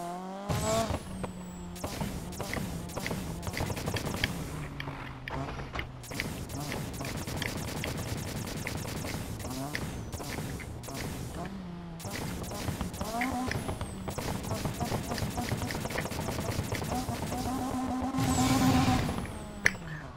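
A nitrous-boosted car in Need for Speed revs and shifts again and again, its engine pitch climbing and dropping, with a few sharp tire chirps and clicks. The sound stays close and fairly steady.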